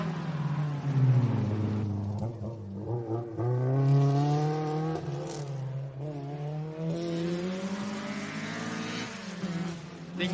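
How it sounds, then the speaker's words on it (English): Rally car on a special stage of Rally Queensland near Gympie, engine revving high with rising and falling harmonic pitch sweeps as it accelerates, loud and close throughout the whole stretch. "as soon as it got a little bit straight there, it was into the revs and high up in the RPM there"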